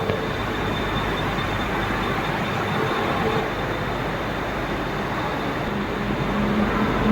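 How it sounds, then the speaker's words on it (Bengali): A train pulls into a station with a steady, heavy rumble and broadband roar that holds throughout, heard nearby without speech. "ট্রেন ঢুকে গেছে"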